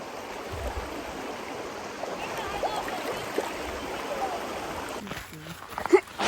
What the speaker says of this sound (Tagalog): Ang ilog.